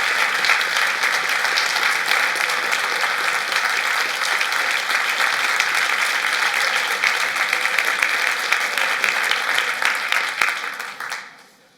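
Sustained, dense applause from a large summit audience welcoming a speaker, a steady loud wash of clapping that holds evenly for about eleven seconds before quickly fading out at the end.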